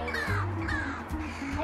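A bird gives harsh crow-like caws, two or three rough calls close by over steady low background noise indoors.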